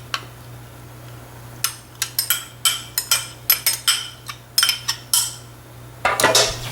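Metal utensil clinks and scrapes against a bowl as gumpaste ingredients, including cream of tartar, are lightly mixed; a quick run of sharp, close taps with short pauses between, over a steady low hum.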